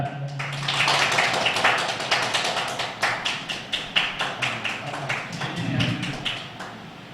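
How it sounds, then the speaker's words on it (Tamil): Enthusiastic applause from an audience at a Tamil astrology event during an honouring ceremony, steady dense clapping lasting throughout, fairly close and loud with no talk over it. "உங்களுடைய உற்சாகமான கைத்தட்டலோட"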